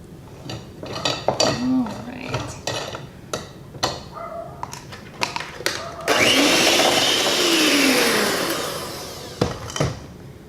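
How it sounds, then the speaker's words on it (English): A kitchen blender mixes pumpkin bread batter with salt added, starting with short pulsed bursts and then running in one sustained, loud whirring stretch before cutting off, with a few clunks at the end. "All right, we are all done blending."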